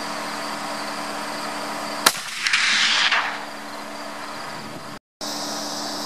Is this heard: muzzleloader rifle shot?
yes